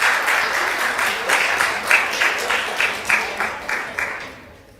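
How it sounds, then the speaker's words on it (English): An audience at a debate applauds, with a fairly loud, full wash of clapping that pulses slightly before tapering off at the end; no one speaks over it. "So let's give her a round of applause."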